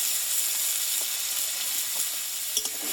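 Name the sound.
spices, salt and turmeric frying in a pan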